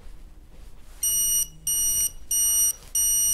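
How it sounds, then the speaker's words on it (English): A proximity warning alert sounds as a series of four loud, high electronic beeps in an on-off pattern, with quiet background noise between them, triggered on entering the caution zone of an intelligent proximity alert system. "So now I'm in the caution zone, and you'll see it gives you a sound alert"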